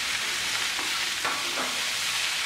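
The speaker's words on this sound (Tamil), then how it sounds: "பாதாம் பருப்பும் தக்காளியும் சேர்த்துக்கிறேன்." Almonds and tomatoes go into a pan of sautéed onions for butter chicken and get stirred, giving a soft continuous sizzle broken by a few light scraping and clattering stir strokes, heard up close.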